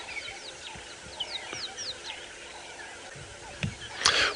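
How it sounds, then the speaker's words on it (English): Francolins and other birds call at dawn on a sunrise safari drive in the bush, a scatter of faint chirps and sweeping calls in the distance, with a louder burst near the end over a quiet background. "There are some other Franklins calling."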